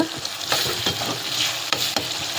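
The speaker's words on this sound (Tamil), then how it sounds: "இந்த நேரத்தில் இதை வந்து நல்லா அப்படி வதக்கி விடுங்க." Onion, tomato and ginger-garlic paste sautéing in a pan for South Indian chicken thokku, with a continuous loud sizzle and several sharp spoon scrapes and stirs close up.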